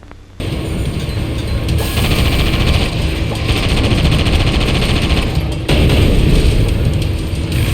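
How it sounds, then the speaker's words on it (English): Sustained rapid machine-gun fire mixed with booming tank cannon blasts in the video game Sand Land, loud and continuous after a brief quiet start, with a short break near the end before the barrage resumes. "The wasteland is full of dinosaurs and goons, all just waiting to be blasted with tank cannons or riddled with machine gun bullets."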